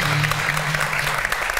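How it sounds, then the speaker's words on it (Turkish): A television studio audience claps in a short, steady burst of applause, dense and fairly close, with no speech over it. "İnşallah dedim herkes alkışladı."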